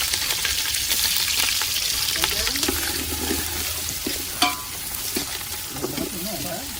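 Chicken curry sizzles and fries loudly in a pan outdoors by a farm field, with a continuous hiss broken by scraping stirs and occasional spoon clinks, up close and steady.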